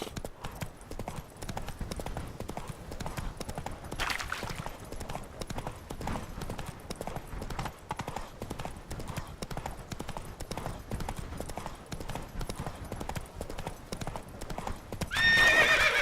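The horse Roach galloping in The Witcher 3 video game, a fast rhythmic clatter of hooves that runs steadily throughout, with a brief whinny-like burst near the end.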